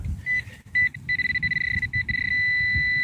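A metal detector sounds a steady ringing tone on a buried target, mostly continuous with a few brief breaks, held over faint low rumble in the background while someone searches for coins and relics near Las Vegas.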